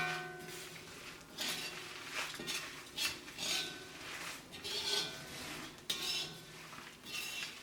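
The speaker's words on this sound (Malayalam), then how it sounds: "ഇതിങ്ങനെ തേങ്ങ നല്ല ഗോൾഡൻ കളർ ആവണ വരെ ഇത് നമ്മളിങ്ങനെ ഇളക്കി കൊടുത്തോണ്ടിരിക്കണം" Grated coconut roasting in a pan for chammanthi podi, stirred steadily with a utensil that scrapes and clinks against the metal in repeated close strokes, with no talking.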